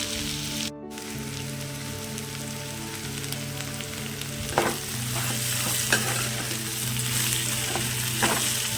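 Ivy gourd (dondakaya) frying over low heat in a pan, with a steady close sizzle, a low background hum, and a few scraping stirs of a spoon near the end.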